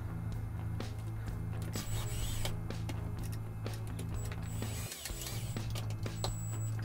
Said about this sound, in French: je prends la drill pour les visser en place